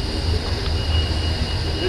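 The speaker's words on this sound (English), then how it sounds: "this is the K train out of Fort Worth" A domestic freight train out of Fort Worth rolls steadily past at Cajon Pass, a continuous rumble with metallic wheel hiss, near and fairly loud, with no break in the sound.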